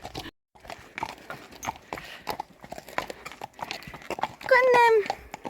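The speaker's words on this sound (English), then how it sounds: "This is how you bring your horses." Several horses walk themselves in from the field at a farm, their hooves clip-clopping in a steady, busy rhythm at close range while a person talks over them and one horse gives a short whinny near the end.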